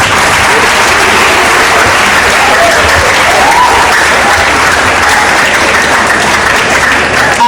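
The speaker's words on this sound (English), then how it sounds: "I'd like to clap for classics" Loud, steady applause from a large audience at a University of Ibadan inaugural lecture, applauding the Department of Classics, with dense clapping that stays even throughout.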